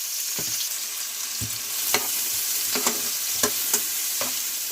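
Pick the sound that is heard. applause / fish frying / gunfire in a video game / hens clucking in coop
fish frying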